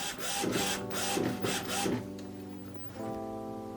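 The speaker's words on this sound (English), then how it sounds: "pressing the bin button again to indicate to the printer you're ready, and it will then check the cartridges, make sure it's happy" Epson WorkForce WF-2110W inkjet printer whirring and clunking as it checks newly installed ink cartridges, a close mechanical run of motor sweeps and rubbing carriage moves, then a steady hum.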